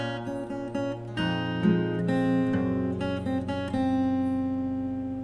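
Fingerstyle acoustic guitar passage, bass notes and treble strings plucked together in a flowing, continuous pattern at moderate volume, close and unaccompanied, no voices.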